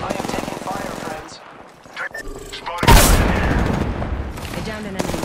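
Automatic weapon fire in Apex Legends rattles in rapid bursts during a squad fight, a dense loud barrage erupting partway through and continuing, mixed with game voice lines and effects.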